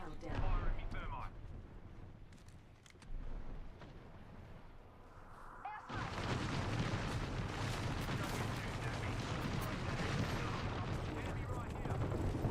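A thermite grenade fired in a video game bursts into a loud, sustained roaring, crackling blaze after quieter scattered shots and faint voices, filling the second half densely.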